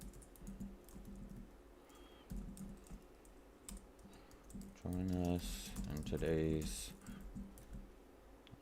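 Fingers type in quick, uneven bursts of clicks on a computer keyboard during a pre-market stock session, with a person talking over part of the tapping.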